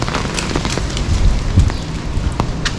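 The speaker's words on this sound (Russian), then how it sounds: "дождик практически не переставал" Steady rain during a July storm at Lazarevskoye on the Black Sea coast, a loud, dense patter with wind noise and scattered sharper drops, continuous throughout.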